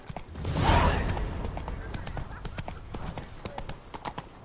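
Horse hooves clip-clopping at a brisk gallop in The Witcher 3 video game, a rapid uneven patter of hoofbeats under a brief swell of noise, moderately close with faint game voices around.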